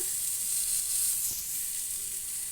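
Mixed vegetables sizzle steadily in a frying pan for pumpkin-greens rasa, with salt, turmeric and grated ginger added; a continuous close, even hiss with a faint brief stir near the middle.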